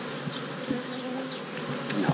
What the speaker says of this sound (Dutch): En hier zien we een raam vol met nieuwe bijen.